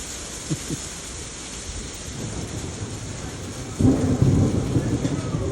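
Thunder rumbles during a hailstorm, a deep rolling crash swelling up partway through over a steady wash of rain and precipitation, with a couple of faint knocks early on.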